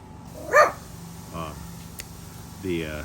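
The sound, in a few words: dog barking in the backyard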